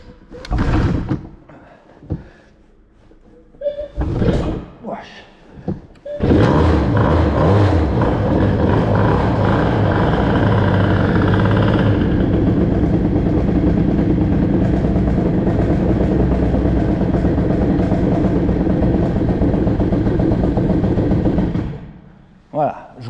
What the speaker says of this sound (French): Bon allez, j'ai mis le starter, j'espère qu'elle va démarrer.